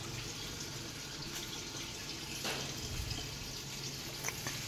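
Clean water runs steadily into a backyard fish pond, a continuous close splashing pour with a faint drip or two, heard alone without voices.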